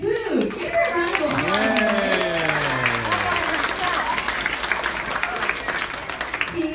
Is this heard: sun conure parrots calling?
no